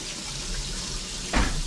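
Cold tap water runs steadily into a sink with a constant hiss, then a sudden louder splash near the end as the flow hits something.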